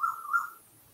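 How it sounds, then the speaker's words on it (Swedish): A single bird call rings out outdoors, a steady tonal note lasting about half a second and repeated once, moderately loud against quiet background. "Vi är lite supportade av en fågel ute någonstans."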